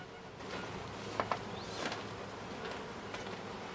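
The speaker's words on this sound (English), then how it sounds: "There are definitely a few bees here." Soft honey bee buzzing hums steadily under a faint background during a hive inspection, with a couple of brief sharper sounds early on.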